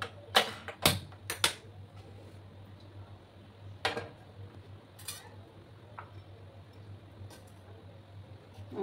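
Sharp clicks from a gas stove igniter as a burner is switched on to heat water in a home kitchen, a quick cluster of close snaps then a few scattered ticks over a steady low hum.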